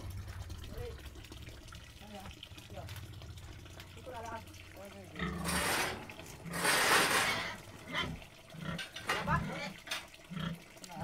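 Brown pigs being lifted and carried on a farm squeal and grunt in loud bursts, with people talking nearby.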